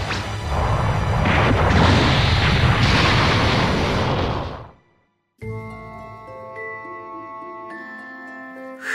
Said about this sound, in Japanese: もう少しで地球の爆発に巻き込まれるところでした。